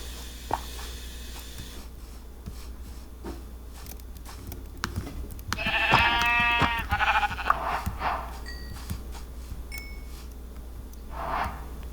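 Sheep in the video game Minecraft let out a short burst of wavering bleats near the middle, with a fainter bleat later, set among sparse clicks and taps over a quiet steady background hum.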